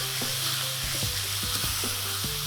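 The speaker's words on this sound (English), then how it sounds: "Now I would add the garlic. Of course, it's minced garlic." Minced garlic sizzles steadily in hot oil in a pan, a continuous close frying hiss with a few soft stirring knocks, no talking.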